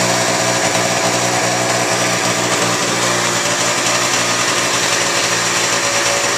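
Small two-stroke engine of a 1985 Honda Aero 50 scooter running steadily and loudly at close range, a continuous buzzing drone with faint irregular pulsing as it begins to choke and falter, no voices.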